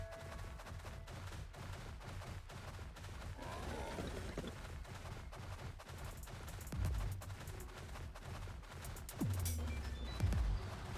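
Video game gunfire from Palworld rattles in steady rapid bursts, with a few heavier booming impacts near the end, fairly loud and continuous.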